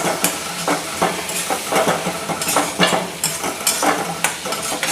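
Fried cauliflower is stirred in a pan, a spatula scraping in quick repeated strokes over a continuous oily sizzle, close and fairly loud with no talk.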